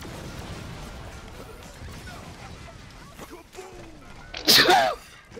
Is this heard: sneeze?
yes